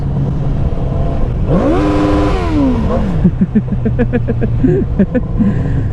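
A motorcycle with a slipping clutch gives one loud rev that rises and falls back, then settles into a throbbing idle, close by at an outdoor meetup in Joliet, Illinois.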